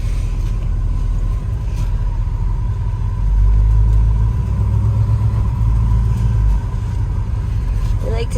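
A 1968 Plymouth Road Runner engine rumbles steadily from inside the car, swelling louder for a few seconds as it accelerates, then settling back to a low drone.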